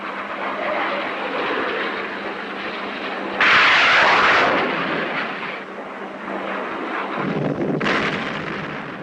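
A research aircraft roars in loud and near, its broadband rushing engine noise swelling in bursts and staying steady over several seconds, with no voices.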